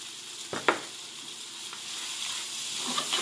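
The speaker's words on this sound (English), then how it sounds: "Fry that right up." Fried rice sizzling and frying in a pan, a steady close hiss with a few clattering stirs and scrapes near the start, alone without talk.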